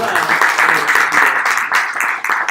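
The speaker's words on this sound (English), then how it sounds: "So I want to give her a round of applause as well." Loud applause from a room of people at a debate watch party, a dense clapping texture with some voices mixed in, dipping briefly near the end.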